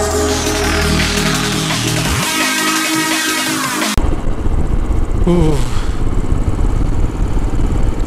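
A Royal Enfield motorcycle rides a rough mountain road between Nubra valley and Pangong lake in Ladakh, its engine droning loud and close with a steady mechanical clatter and a sharp change in tone midway.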